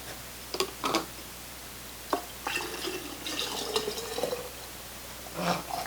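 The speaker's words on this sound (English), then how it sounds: "So now I'll just pour 1/2 into each of these mason jars here." Sugar syrup is poured into mason jars, giving faint liquid trickles and splashes with a few soft clinks of glass, quiet and close with gaps between pours.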